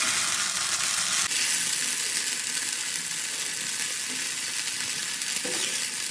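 Stingray fish pieces frying in a pan give off a steady, dense sizzle that stays loud and even throughout, with no voices.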